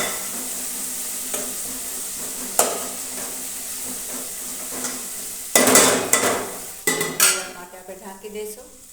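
Onions with ginger garlic paste being stirred in a frying pan, a spoon scraping and clinking against the metal over a steady low sizzle, with louder clattering strokes toward the end.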